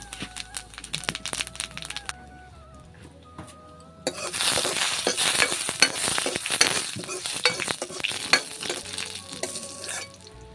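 A tempering of spices hits boiled dal in a village kitchen with a sudden loud sizzle. Sharp crackling and spitting frying noises follow and keep going steadily, after a few quieter clinks of stirring.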